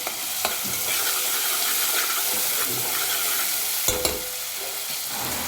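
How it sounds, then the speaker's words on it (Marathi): Garlic and green masala paste sizzle and fry in a pan, a steady loud hiss under occasional stirring scrapes and clicks of the spoon. "लसूण थोडा लालसर तांबूस कलरवर परतून घ्यायचं आणि वाटण पण"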